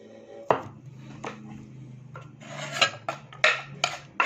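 Green mango being shredded by hand for a Filipino mango salad. Close, uneven scraping and chopping strokes come in irregular bursts, with a faint hum underneath.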